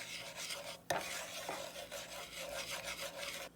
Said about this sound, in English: Dissolve that sugar into the butter.